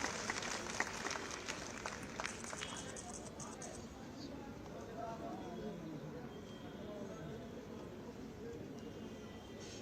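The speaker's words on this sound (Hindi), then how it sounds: "आप सभी की जोरदार तालियां।" An audience applauds tribal artists on stage at a tribal festival. A burst of clapping is loudest at the start, then fades to a softer, scattered patter as the crowd settles.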